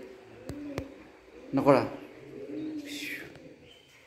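Pigeon-like cooing at a temple, a brief bird call rising near the middle amid steady outdoor ambience, with people talking around it.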